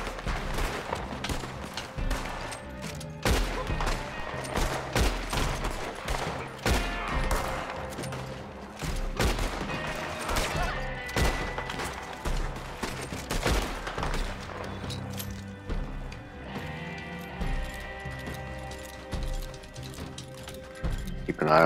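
Rapid volleys of gunfire in the video game Red Dead Redemption 2, sharp cracking shots fired in quick clusters throughout, loud and close, with players talking over the shooting.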